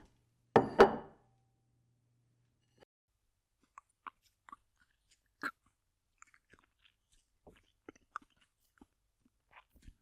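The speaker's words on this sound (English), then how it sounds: "This jerky's delicious." Close, crisp bites and chewing of beef jerky: one loud crunchy bite, then scattered small wet chews and clicks spread through otherwise quiet space.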